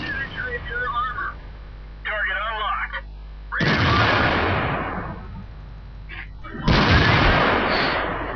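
Artillery shells firing and landing in World of Tanks, two loud, broad blasts a few seconds apart with rumbling decay, amid game beeps and someone talking over the action.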